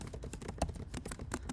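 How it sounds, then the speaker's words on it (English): Soft, rapid keystrokes on a computer keyboard, an irregular patter of light clicks with a few firmer taps, close and quiet with no voices. "So if I start typing text here,"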